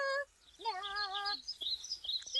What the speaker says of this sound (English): The bird is great at singing. Yeah, that was a great tune.